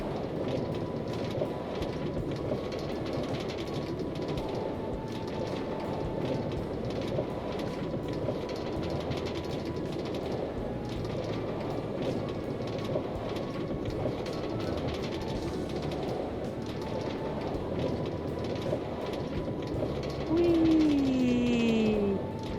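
Minecart riding along a rail track in Minecraft, a steady rolling rattle with rhythmic clicks over a continuous rumble, a squealing tone near the end, moderately loud with no talk.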